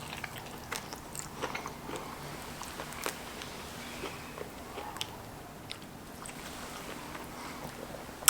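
Crisp homemade pizza crust crunches under repeated bites and chewing, close and fairly quiet, with scattered sharp cracks over a soft background.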